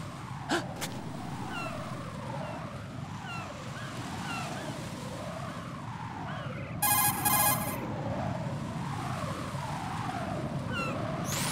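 A cell phone rings in the Metal Gear Solid 2 video game, a warbling electronic ringtone pulsing steadily over a constant wash of ocean waves, with a brief burst of buzzing midway.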